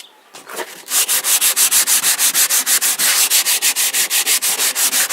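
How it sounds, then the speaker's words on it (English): Antique timber is hand-sanded with 120-grit sandpaper in fast, even back-and-forth strokes, a loud rhythmic rasping that runs steadily after a brief start. "Now I'll just give that a brief sanding."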